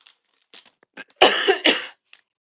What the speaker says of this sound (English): for some reason just decided to have a cough